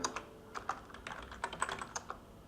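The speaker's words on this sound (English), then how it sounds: "type msconfig. Sorry for my bad typing." Uneven bursts of key presses on a computer keyboard, a quiet, close, irregular clatter of clicks with short pauses between groups, and no talk.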